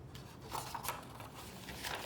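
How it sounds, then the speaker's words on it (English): A craft blade slices quickly through paper while trimming a scrapbook mini album, a brief soft scraping cut heard close up with no talking. "just take my blade here and cut that off really quickly"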